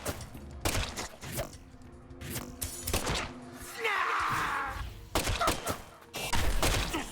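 Gun arm shots in Deadly Premonition 2, several loud, sharp bangs spread through the clip, mixed with thuds and a hissing burst in the middle, while a voice talks between them.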